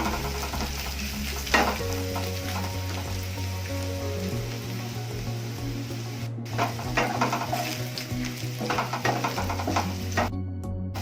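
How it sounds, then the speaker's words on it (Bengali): Onion fries in a pan for a dry okra and potato curry while being stirred, giving a steady close sizzle with repeated scraping strokes of the spatula. "পেঁয়াজটা প্রায় ভাজা হয়ে গেছে, আর একটু হবে।"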